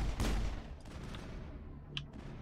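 Gunfire in the video game Mass Effect, a short loud burst at the start followed by a few fainter, sparse shots and quieter game ambience.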